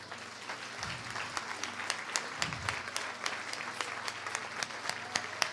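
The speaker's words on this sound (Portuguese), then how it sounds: "você pode dar um aplauso ao Senhor" Church congregation clapping in praise during a service, a fairly soft, even patter of many hands with occasional sharper claps, continuing throughout with a faint low hum beneath.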